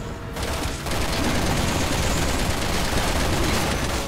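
Sustained rapid gunfire from a Resident Evil 6 final boss fight rattles loud and dense for several seconds, a continuous volley with no speech.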